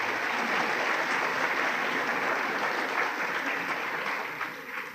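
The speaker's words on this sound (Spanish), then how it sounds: "Yo quisiera pedirles un aplauso, por favor, para los compañeros de comunicaciones de la Superintendencia de Control de Poder de Mercado." Sustained audience applause in an event hall welcoming communications staff of a market-power regulatory agency, a steady dense clapping wash throughout that eases slightly near the end, with faint voices underneath.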